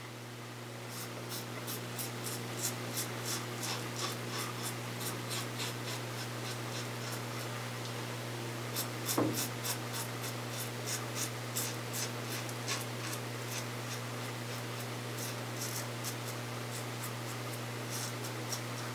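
Muhle Rocca safety razor scraping across the mustache area, a series of short crisp rasping strokes close up over a steady low hum, with no talking.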